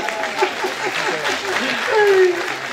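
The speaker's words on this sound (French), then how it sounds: "Vous pouvez l'applaudir" Applause from an audience at a caravan festival team presentation hosted by a Madame Doubtfire character, steady dense clapping filling the whole stretch, with voices and whoops rising through it near the end.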